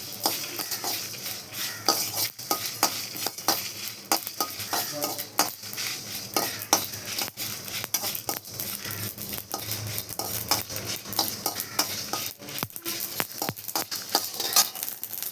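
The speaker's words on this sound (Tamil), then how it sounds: "இந்த மிளகாயும் வதக்கணும்" Chillies sautéing with mustard seeds and fenugreek in a pan over low heat, a dense crackling sizzle with constant spatula scrapes and clinks against the metal, close and busy throughout.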